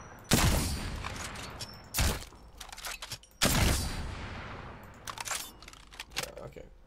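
Gunfire in the video game Apex Legends, several loud heavy single shots spaced apart with sharp cracks and trailing echoes, plus quieter clicks and thuds between them.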